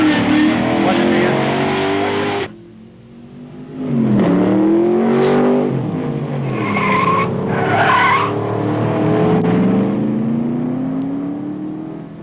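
A 1991 Corvette ZR-1 launches in a drag race, tires spinning and squealing as the engine revs hard, then sharp shifts and rising revs as the wheelspin continues through the gears, loud and close.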